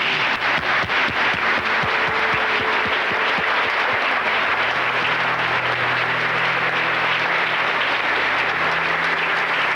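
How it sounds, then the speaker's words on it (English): A congregation inside a mission rises in a standing ovation at a memorial tribute to scholar and public servant Walter H. Capps, producing continuous, full applause that stays steady from start to finish, with a low hum emerging midway. "The congregation inside the mission gives a standing ovation."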